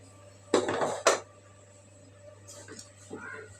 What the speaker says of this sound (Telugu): మూత చేస్తున్నా